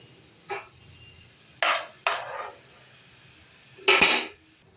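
Fried garlic lifted out of a pan with a spatula, four separate scraping swipes against the metal, close, the last one the loudest, with quiet pauses between.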